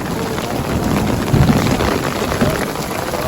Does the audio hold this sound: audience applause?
no